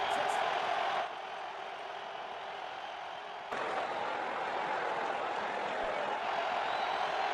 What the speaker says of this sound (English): Oh, what a shot! The crowd has gone mad!